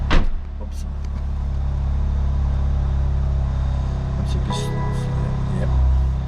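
A BMW M2 Competition engine fires up with a sharp starter burst, then settles into a loud, steady low rumble at idle that swells slightly toward the end, recorded close from inside the car.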